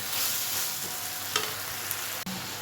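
Brinjal pieces fry in a pan for vankaya pachhadi, giving a close, steady sizzle with a couple of light utensil taps and one sharp clink, with no voices.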